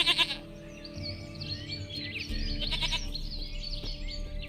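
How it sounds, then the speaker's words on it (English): A goat in The Witcher 3 bleats sharply at the start, then quieter animal calls and birdsong sound over a low outdoor ambience with a deep hum that rises partway through. "Goat of mine, dearest, sweetest goat."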